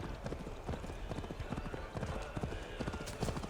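Rapid clip-clop of galloping hooves in Assassin's Creed Valhalla, steady and close, with occasional voices and game ambience running underneath.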